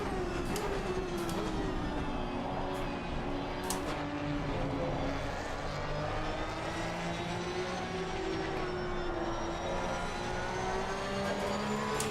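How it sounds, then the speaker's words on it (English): Loud, steady Porsche 992 Cup race car engine roar with sustained tonal drone throughout, continuous and close, at Spa-Francorchamps, no talking. "The cars are so loud, it's quite off-putting."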